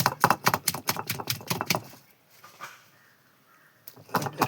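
Shallots and tamarind pounded with a pestle for a Kerala taro dish, giving a fast run of sharp, close knocks that stops abruptly. A short quiet gap follows, then the pounding resumes briefly.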